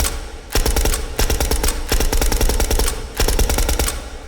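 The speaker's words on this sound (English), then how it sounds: "You can really hear the bolt mechanic noise too when we've got a much more dampened firing noise" A suppressed Sten submachine gun in the VR game H3VR fires three long automatic bursts, each a rapid run of dampened shots with the mechanical clack of the bolt cycling clearly audible, close and loud with no talking.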